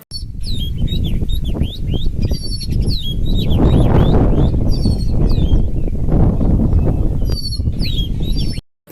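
Many birds chirping and tweeting continuously, a dense chorus of quick high calls over a loud rushing background.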